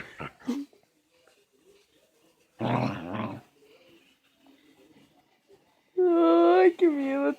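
A dog growls and whines in two loud bursts near the end, following a short sharp outburst and a human cry earlier, with quiet gaps between.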